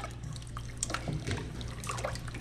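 A small amount of water trickles and splashes into a bowl of corn masa for green salsa tamales, a continuous close liquid pour over a low steady hum, with no one speaking.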